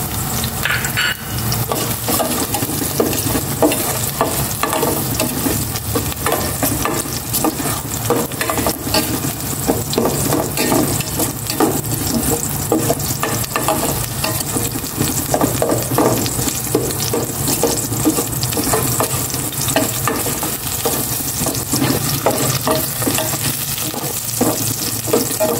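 Onions sautéing in a hot pan for pineapple chicken, a steady loud sizzle broken by the scrape and clatter of stirring, heard close up and uninterrupted without speech.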